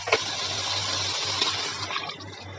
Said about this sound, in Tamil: இப்போ புளி கரைசல் எடுத்து நம்ம ஊற்றிடுவோம்.